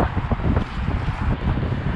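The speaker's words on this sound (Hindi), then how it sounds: "बहुत ही खतरनाक हवा चल रही है" Strong, gusty wind sweeping across a wide open highway in freezing weather near Edmonton, Canada, a loud continuous rushing roar buffeting the microphone, with no talk.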